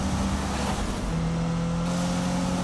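A race car engine in Need for Speed roars loud and continuous with a nitrous boost, a sustained high-revving drone with a tonal whine.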